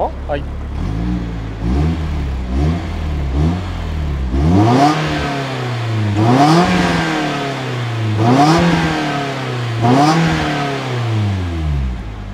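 A Nissan S15 Silvia's SR20DE engine revs repeatedly through a stock exhaust, rising and falling in several distinct bursts, loud and close, with no talk over it.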